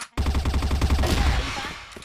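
Gunfire in a first-person shooter video game bursts out as a rapid, loud string of automatic shots with an even rhythm, then trails off into a ringing tail.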